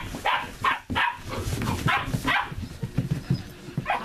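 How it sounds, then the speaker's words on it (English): Sheepadoodle puppies in a six-week-old litter bark and whimper in short, repeated yips and whines, close and fairly loud, overlapping one another in a busy cluster of small dog voices. "This is such a sweet litter of puppies."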